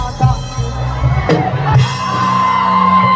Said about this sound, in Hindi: पहले ताली बजा